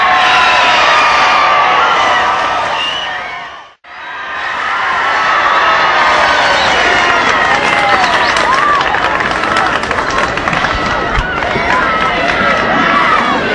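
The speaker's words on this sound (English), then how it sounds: "You hear the crowd applaud him." A large street crowd in Fort Worth applauds and cheers President Kennedy in 1963, a loud, dense roar of clapping and voices that briefly drops out, then swells back and continues.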